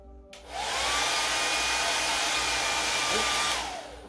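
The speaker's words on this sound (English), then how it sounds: "I've got my dryer on a cool setting." A hair dryer on its cool setting, used on an acrylic pour painting, switches on and blows with a steady whirring roar for a few seconds, then winds down; no voices.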